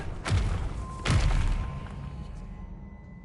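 Two heavy thudding blasts from the Confringo spell in Hogwarts Legacy, about a second apart, each a deep booming impact that decays into a low, lingering rumble.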